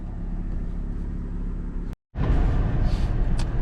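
Cadillac CT6 sedan in sport mode on a test drive, steady low engine and road rumble from inside the cabin, broken by a brief silent gap before the drive noise returns slightly louder.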